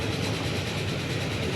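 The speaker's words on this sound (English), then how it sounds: "there's another train coming back" A train rolls past in the Transport Fever 2 simulation game, a steady low rumble and clatter of wheels on track at moderate volume.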